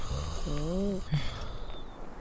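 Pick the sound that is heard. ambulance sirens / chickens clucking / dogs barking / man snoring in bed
man snoring in bed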